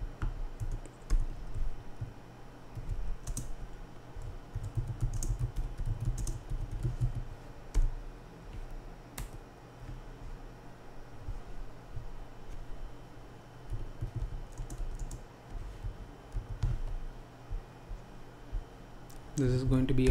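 Steady typing on a computer keyboard while writing a Python script, quick irregular key clicks close to the microphone, with a voice talking intermittently over them.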